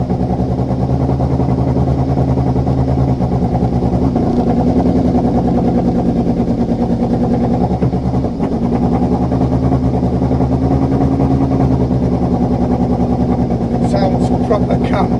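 A race motorcycle engine with a misfire runs steadily at close range through a circuit noise test, its constant low drone holding loud for the whole stretch with an uneven, stumbling texture and a few faint clicks near the end.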